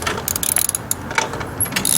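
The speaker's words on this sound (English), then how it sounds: "You just unscrew the bolt that is underneath" A small wrench ratchets quickly on the exhaust clamp bolt of a GY6 scooter, giving a close run of crisp metallic clicks.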